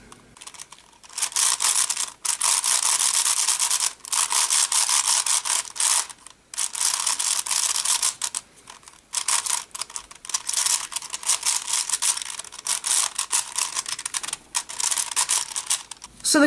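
Layers of a Shengshou 5x5 twisty puzzle cube turn in fast plastic clattering runs, close and crisp, broken by brief pauses between bursts of turning.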